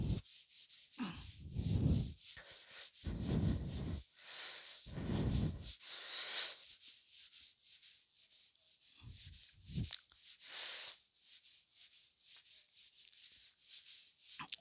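Repeated rhythmic rubbing strokes of an eraser or duster wiping writing off a classroom board during a physics lesson, with heavier strokes early, then lighter, quicker back-and-forth scrubbing, close and without speech.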